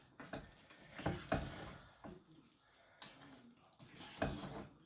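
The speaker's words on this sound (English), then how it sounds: "Give it a few more stirs." Bolognese sauce being stirred in a pan, a few soft scraping and sloshing strokes with wet bubbling between them, fairly quiet and close, with no talk.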